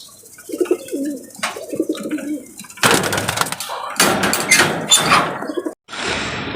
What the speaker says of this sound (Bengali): আর এখন আমি কবুতর উড়ে নামানোর পরে কবুতরকে এইভাবেই ঠান্ডা জাতীয় খাবার দিতেছি